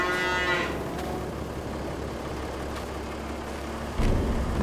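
Cattle moo in a Farming Simulator 22 barnyard, one long low moo at the start and another near the end, over a steady background engine hum.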